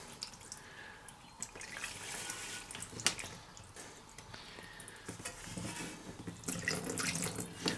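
Water draining from the tank of an old 1966 mower, a continuous trickling and splashing flow with faint drips, fairly quiet and close, swelling slightly toward the end.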